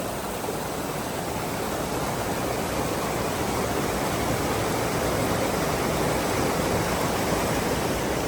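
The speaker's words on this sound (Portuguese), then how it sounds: "o hotel tinha uma trilha na beira de um rio que levava até uma cachoeirinha escondida" Continuous rushing white water from a small hidden waterfall beside a river trail, steady and full with no pauses or voices.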